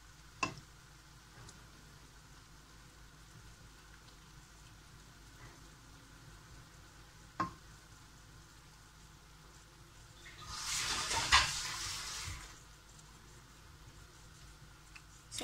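Canned chickpeas hit hot oil in a pan and sizzle in a loud burst lasting about two seconds, with stirring scrapes and faint ticking before and after.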